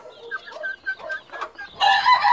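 Young Cuban game chicks from Cienfuegos, a female and a male, cheeping in short bright peeps at close range, getting louder and denser toward the end.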